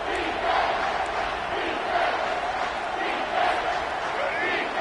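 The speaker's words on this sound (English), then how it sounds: "Decibels rising as the crowd gets behind this defense on third down." Stadium crowd at a football game roaring steadily behind the defense on third down, a loud, continuous wall of cheering and shouting with swelling surges throughout.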